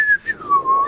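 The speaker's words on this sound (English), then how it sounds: "Everybody's whistling now." Whistling from a crowd at a live music showcase in a barn venue, a short bright tone that slides downward with breaks, loud and close with no talking over it.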